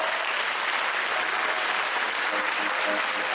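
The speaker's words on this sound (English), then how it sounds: "Give a round of applause for Nicole, ladies and gentlemen." Thick, steady applause rises from an audience cheering the winner Nicole at a game-show finale, loud and continuous throughout.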